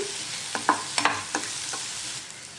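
Chili powder and fried onions are stirred in a pan for a dried prawn and egg curry: a few sharp scraping clinks of a spoon over a soft, steady sizzle, close and alone with no talk.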